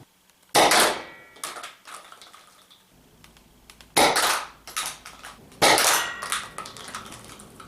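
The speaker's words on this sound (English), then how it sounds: "as you can see there by a quick firing demonstration, the Absolver is fully functional" Nerf 7 Round Absolver blaster fired three times in a quick demonstration: sharp snapping shots, each followed by plastic clicks and rattles of the mechanism, close and clear with no talking.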